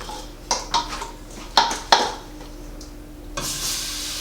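Beef searing in hot cooking oil in a pot for Jamaican stew beef, with sharp clanks of a utensil stirring against the pot followed by a bright burst of sizzling at the end.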